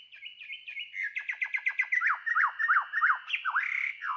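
An altered copy of a bird song recording plays alone, with clear chirps, fast trills and swooping whistled phrases that sound slightly lower and slowed compared to a natural song.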